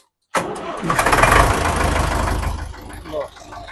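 A tractor's diesel engine cranks and catches, then settles into a loud, steady chugging idle with a deep rhythmic thump, close by.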